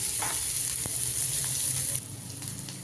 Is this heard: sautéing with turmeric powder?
yes